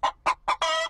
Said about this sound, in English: Oh, the chicks.